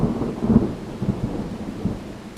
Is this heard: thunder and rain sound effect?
yes